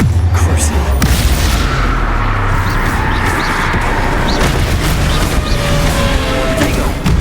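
A Confringo fire spell bursts into a loud, booming explosion in the Hogwarts Legacy video game, followed by a dense, crackling roar of battle noise that stays loud and continuous throughout.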